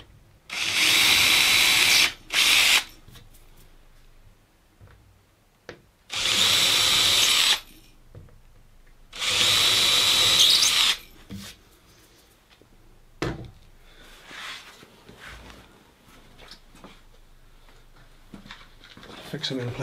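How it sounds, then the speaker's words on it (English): Three loud bursts of high-pitched power drilling with a fine 2 mm bit, each lasting a second or two, separated by pauses with faint handling noises and light knocks. "Then we can drill those out with a fine"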